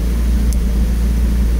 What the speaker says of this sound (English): we're trying to do 1700 RPM idle with those magic values